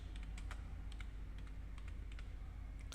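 Keys on a laptop keyboard are typed in short, uneven bursts of light clicks, close and quiet over a low background hum, with no voice.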